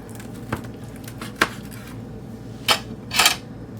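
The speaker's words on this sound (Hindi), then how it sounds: "अब इसे काट कर दिखाते हैं।" Knife strokes slicing through a chicken rice wrap on a board, four short crisp cuts spaced apart, the last a longer scraping pass, close and alone.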